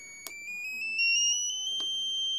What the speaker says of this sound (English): This is actually a good way to find out the sweet spot for the piezo buzzers, because as you can hear,